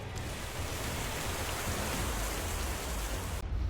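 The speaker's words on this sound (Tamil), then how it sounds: "மழை பெய்கிற மாதிரியான ஒரு சத்தம் கேட்டுக்கிட்டே இருக்கு" Rain-like hiss heard over a late-night phone line, a steady, dense wash of noise filling the whole stretch without a voice, cutting off abruptly at the end.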